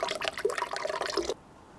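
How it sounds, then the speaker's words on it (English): A splash of balsamic vinegar pours into a salad dressing of orange and lemon juice, a steady close liquid gurgle lasting over a second before stopping abruptly, with no voices. "A splash of balsamic vinegar."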